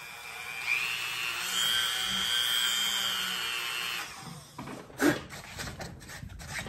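A drill bores into a Hammer 78D bowling ball in a home garage, a steady high whine for several seconds that cuts off, followed by scraping and handling noises.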